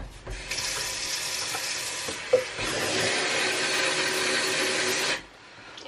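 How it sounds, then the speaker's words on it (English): Tap water runs into a cup in a home kitchen, a steady close hiss with a brief break near the middle before flowing again and cutting off abruptly near the end. "Let me fill the cup halfway."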